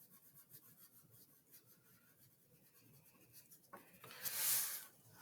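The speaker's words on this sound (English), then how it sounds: "I'm letting up on my pencil pressure, showing a smooth transition from dark on the outside edge to light" Colored pencil shading on paper, with pressure eased from dark at the outer edge to light toward the middle of an op art drawing. It is a soft, continuous scratchy rubbing that is faint throughout and swells louder near the end.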